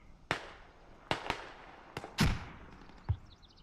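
Mortar shells explode in a tactical video game, five or six sharp blasts at irregular intervals, one heavier boom with a deep rumbling tail, followed by quieter crackling.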